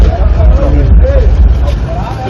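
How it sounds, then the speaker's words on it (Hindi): Crowd babble and shouting at a packed political gathering, with a vehicle engine rumbling close by underneath the voices as it pulls in; people talk loudly throughout. "बढ़ा दो अंदर गाड़ी आई"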